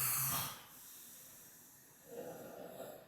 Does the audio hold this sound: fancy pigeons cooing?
no